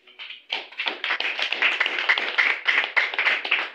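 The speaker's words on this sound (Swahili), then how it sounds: "Mpigie Bwana makofi." Church congregation claps for the Lord during a sermon, a fairly close, lively burst of many hands starting after a brief pause and continuing in quick uneven rhythm.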